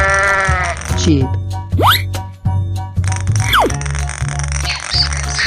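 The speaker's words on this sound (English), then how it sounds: "Sheep." Cartoon sheep bleat in a 3D animal slide video game, a couple of wavering calls over bouncy music with springy boing effects, while excited voices talk along.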